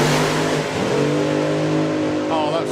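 Drag race car at the NSRA Hot Drags launching down the strip, a loud sustained engine roar with rising harmonic pitch as it accelerates, heard over a commentator's voice.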